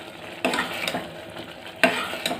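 Lentil poli filling stirred in jaggery syrup in a pan on the stove, with two bursts of scraping and stirring strokes over a soft background sizzle and no talk.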